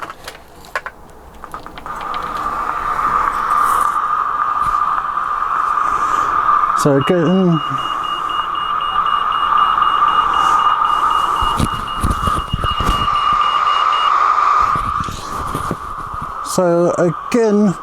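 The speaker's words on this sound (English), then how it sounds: "you've got the background sound, then you've got aircraft coming overhead, lorry dustbin, pelican crossing, roadworks, police cars, shop burglar alarm and car horn." A Gaugemaster Urban Scene sound module for model scenery plays street sounds: a loud, sustained electronic tone runs through, with warbling siren-like sweeps and bursts of traffic noise layered over it, and someone briefly speaks at the start.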